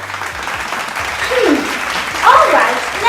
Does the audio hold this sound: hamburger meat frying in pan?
no